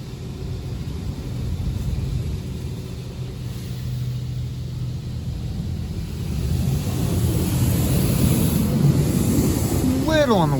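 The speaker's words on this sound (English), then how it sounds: "Looks like we are starting the high pressure rinse." High-pressure rinse at a Washworld Razor automatic car wash in Salisbury, MA: a steady broadband hiss of water spray that swells louder partway through, with a low rumbling wash drone beneath.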